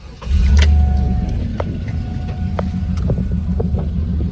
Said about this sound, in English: let's start this bad girl up real quick, and I'll pop the hood so you can see how everything running.